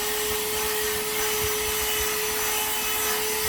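A mini portable cordless vacuum cleaner running with its scraper extension attached, giving a steady, close, continuous whine with a constant tone and a rough scraping, rubbing texture underneath, heard alone without talk.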